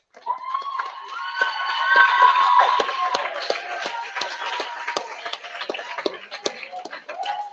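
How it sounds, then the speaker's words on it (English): Scattered applause, cheers and whoops rise from a community gathering audience, building to a lively peak of mixed clapping and voices before breaking into sparser, uneven claps. "I want to give a round of applause for the brothers in SciEx."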